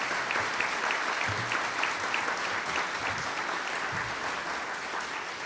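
Sustained audience applause fills a room at the close of a 2024 Virginia 10th Congressional District candidates debate hosted by the Loudoun Chamber, steady and dense clapping for several seconds with a faint voice underneath.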